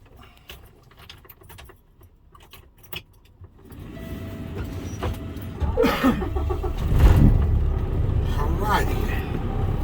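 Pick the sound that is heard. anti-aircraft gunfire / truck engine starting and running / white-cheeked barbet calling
truck engine starting and running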